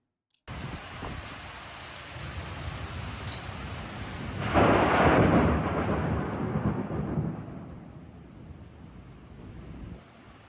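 A severe nighttime thunderstorm heard from a balcony: heavy rain hissing steadily, swelling into a loud rumbling thunder roll midway that slowly fades back into the pouring rain, with no voices.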